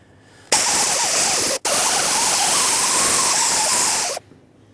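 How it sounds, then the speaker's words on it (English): A sanding disc grinds a corroded brake hub flat on a 2003-2009 Dodge Ram 2500 during rear backing plate replacement, a loud continuous abrasive hiss that runs for about three and a half seconds with one brief break partway through. "I'm going to take a sanding disc and very gently sand this flat."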